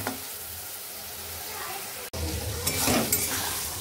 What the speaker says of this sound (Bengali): তো চলো এখন ভালো করে মশলাটাকে কষিয়ে নিই।